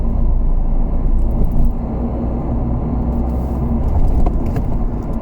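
Inside a small manual car cruising at about 40 in fourth gear, the engine and road rumble hold a steady, loud drone with faint rattles and no voices.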